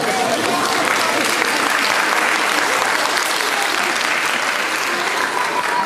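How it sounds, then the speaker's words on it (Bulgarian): A concert audience applauds steadily as a children's gymnastics and dance club from a community cultural center is welcomed on stage, dense clapping filling the hall for the full stretch without a break. "Посрещнете с аплодисменти"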